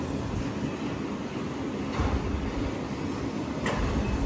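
A long Union Pacific and BNSF autorack freight train rolls past, a steady, loud rumble of wheels and rail cars that holds through the whole stretch, with slight swells as cars go by and no voices.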